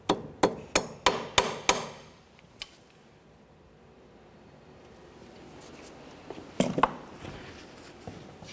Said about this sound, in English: Peen that over so there's no way this nut can loosen up on its own while you're driving down the road.